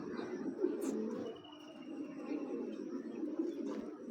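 A big Giribaz pigeon coos close by in a low, steady, rolling murmur that continues without pause.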